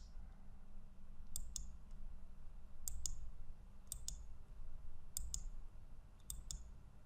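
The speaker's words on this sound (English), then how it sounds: "click the bold checkbox to make the multi-line and single line comments" A computer mouse clicks on a checkbox in an editor's settings, giving sharp paired clicks repeated about six times at a steady pace, close and crisp over a low room hum.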